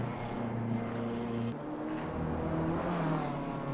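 BMW M4 GT3 race car engine in Assetto Corsa Competizione, a deep, steady engine drone with a brief break partway through as the pitch resets, then climbing again, loud and continuous with no talk.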